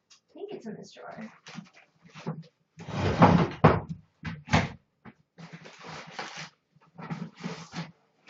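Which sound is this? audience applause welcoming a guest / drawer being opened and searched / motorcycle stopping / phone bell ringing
drawer being opened and searched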